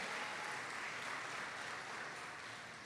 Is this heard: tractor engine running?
no